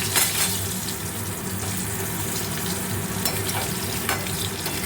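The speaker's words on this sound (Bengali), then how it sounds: "এবারে আলুগুলো ভাজবো।" Potatoes fry in hot oil in a pan for egg curry, a loud, continuous close-up sizzle with occasional stirring scrapes and clinks.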